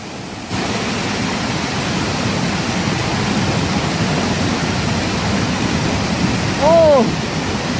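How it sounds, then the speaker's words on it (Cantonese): A large waterfall pours with a broad, steady roar that fills the scene close by, with a brief whistle-like tone near the end. "呢個大水潭，前面有個更靚嘅大瀑布，有冇咁靚啊？"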